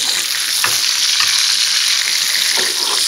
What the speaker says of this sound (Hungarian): Kicsit megdöntöm a serpenyőt, hogy a vaj lecsurogjon oda az aljába, és ezzel locsolom vissza a húst.